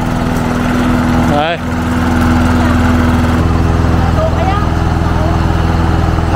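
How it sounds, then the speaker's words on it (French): A petrol lawn mower runs loud and steady close by, its engine droning continuously with a brief dip, while a person speaks briefly over it. "elle a voulu que je le filme en train de faire la tondeuse"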